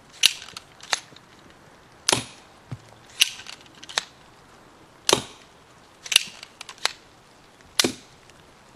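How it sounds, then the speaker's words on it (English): A mini pump-action pistol fires bolts into a dense styrofoam head, about five sharp snapping shots spaced between quick racking clicks and clacks, close by and fairly quiet, with no talk. "You simply point, shoot, rack,"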